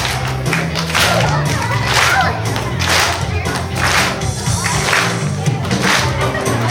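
Audience clapping for a young volunteer named Troy at a live wilderness show, irregular scattered claps and thumps over a low hum of crowd noise and background voices.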